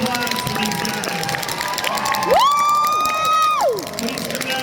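A fan convention audience claps and murmurs after a show; midway a loud, drawn-out high whoop rises above the steady crowd noise, then fades back into the applause.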